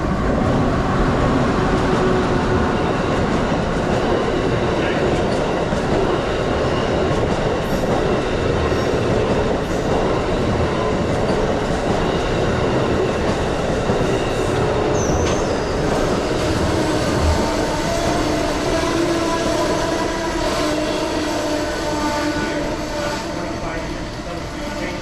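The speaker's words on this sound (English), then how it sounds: "Amtrak Regional Train 154 hitting the brakes as it meandered past the tower on" An Amtrak Regional passenger train rumbles loudly and steadily past a tower, with brakes squealing faintly and wheels clattering over the rails.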